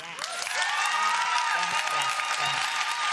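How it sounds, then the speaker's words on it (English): Audience applause fills a hall at the UN SDG Awards ceremony, a steady, dense clapping that holds loud throughout with a voice faintly audible beneath it. "So I really love that you clap"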